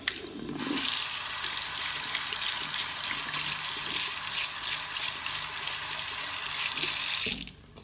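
Tap water pours into a sink over a silicone brush-cleaning mat being rinsed, a loud continuous rushing flow with slight rhythmic splashing, starting after a short moment and cutting off near the end, with no talking.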